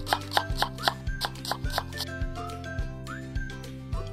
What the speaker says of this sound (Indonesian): Potong buah dan sayur untuk membuat acar.